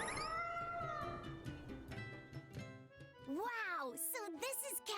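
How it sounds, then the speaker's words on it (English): Cartoonish cat meows from the Cat's Corner hamlet in the Tales of Berseria video game, several rising and falling mews near the end, over background game music and voices. "And look at all the cats!"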